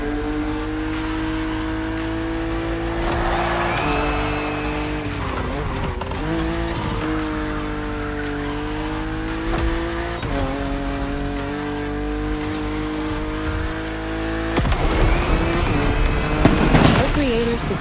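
Car driven in the racing game The Crew Motorfest: a revving engine climbs and drops through gear changes, with tire squeal and a burst of acceleration near the end, continuous and close.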